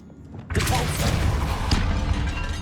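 A Depulso spell cast in Hogwarts Legacy inside a tomb: after a quiet half-second, a sudden forceful blast erupts into a dense, rumbling wash that holds steady and loud to the end.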